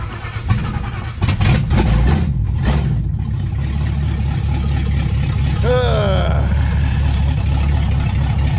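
Ford Mustang engine cranking with a few rough bursts, then catching and settling into a loud, steady rumble close by, with a brief squeal and a voice heard over it.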